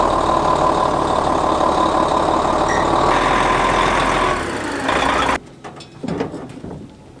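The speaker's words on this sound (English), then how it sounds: "let's go power wash" A semi truck sits under steady, loud engine idle and machine hum, the dense noise cutting off abruptly near the end to quieter scattered rattles and clatter.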